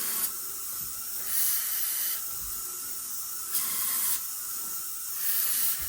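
Three or four short bursts of hissing spray, each lasting about a second, separated by brief pauses over a steady background hiss, spraying out an Ariens Deluxe 30 snowblower.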